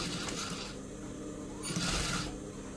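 A sewing machine stitches a puff sleeve onto a blouse in two short whirring bursts separated by a quiet pause, heard close and moderately soft.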